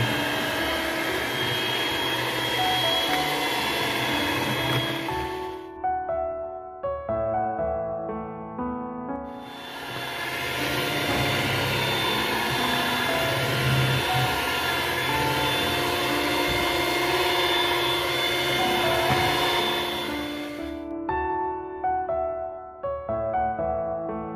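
Electric hand mixer beating eggs at top speed for a chocolate sponge cake batter, a loud, steady, close whirring motor drone in two long runs separated by a brief pause.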